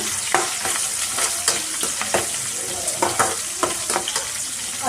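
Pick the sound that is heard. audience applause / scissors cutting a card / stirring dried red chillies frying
stirring dried red chillies frying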